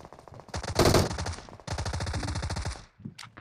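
A Thompson submachine gun fires in PUBG Mobile, with two loud, rapid bursts of closely spaced automatic shots filling the space, followed by a brief, fainter pop.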